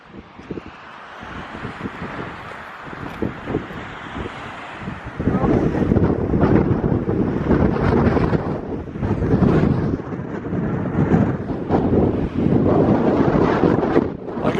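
Steady wind buffets the microphone at a desert ghost-town cemetery in Nevada, a low roaring rumble that swells louder partway through and keeps gusting without a break.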